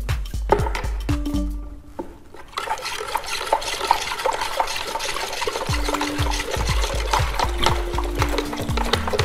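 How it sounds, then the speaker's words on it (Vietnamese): Liquid being stirred in water for an aquaponics culture mix, with repeated knocking and sloshing strokes of the stirrer against the container in an uneven rhythm, close and moderately loud. "chúng ta lại khuấy đều lên"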